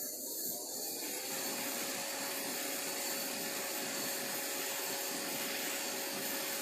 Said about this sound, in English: put my fume extractor on